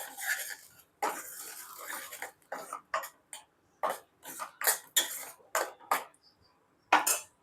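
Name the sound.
lid being placed on a cooking pot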